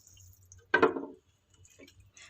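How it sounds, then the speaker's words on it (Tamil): Rice-washing water poured into a pot of Tamil vegetable-free curry (kuzhambu) makes a single short, close splash and gurgle lasting about half a second, alone against a quiet room hum. "இதில் வந்து தேவையான அளவு தண்ணி ஊற்றிடலாம்."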